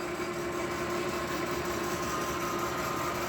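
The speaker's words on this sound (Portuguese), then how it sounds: "Vamos ligar aqui o torno para ver o que que acontece." A lathe runs steadily after being switched on, giving a continuous mid-pitched hum with a faint high whine, even and fairly quiet.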